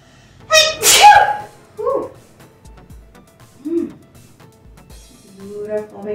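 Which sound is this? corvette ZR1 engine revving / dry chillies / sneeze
sneeze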